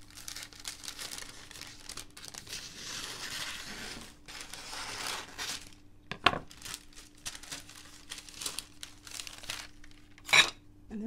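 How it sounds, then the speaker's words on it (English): Paper is handled and cut in a home kitchen while making a low-point danish, with soft crinkling and rustling over a faint hum, plus a couple of sharp snips or taps. "So what I'm going to do is I'm going to cut my paper."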